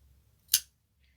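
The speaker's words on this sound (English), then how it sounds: "then cut your yarn" A single crisp snip of scissors cutting crochet yarn, one short sharp click close by against a quiet background.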